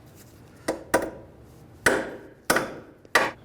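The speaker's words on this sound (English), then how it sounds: "take a hammer and hit the ball joint from the bottom on the castle nut" A hammer strikes the castle nut on the ball joint of a 2003-2011 Honda Element from below, five sharp metallic knocks at uneven intervals, close and clear in a quiet garage.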